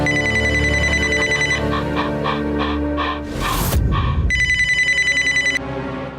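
A telephone rings loudly and close by in a repeating electronic ring pattern, broken briefly by a short burst of noise before ringing resumes, with a faint dog-like yelp blended in.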